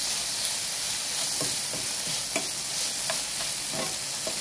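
Bacon frying in its own fat without oil gives a steady, dense sizzle close up, broken by small pops and the occasional scrape of stirring.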